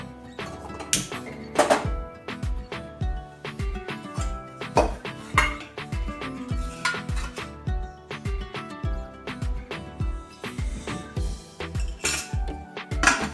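A small steel pot clanks and clinks repeatedly as it is handled for tempering while making quick Marathi-style mango pickle, with sharp metallic knocks and ringing taps in an irregular rhythm, close and fairly loud.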